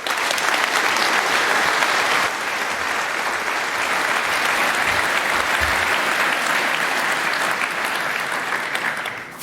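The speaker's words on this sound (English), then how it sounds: "So let's have a huge round of applause for Alex and Jiska." Sustained audience applause at a crowded 37C3 hacker conference talk, loud and dense clapping that runs steadily throughout with no talking over it.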